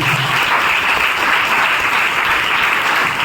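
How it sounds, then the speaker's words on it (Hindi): A church congregation claps loudly and continuously during a Hindi sermon, a dense, even wash of applause with no pause. "ठीक है, एक जोरदार ताली बजाएंगे प्रभु यीशु मसीह।"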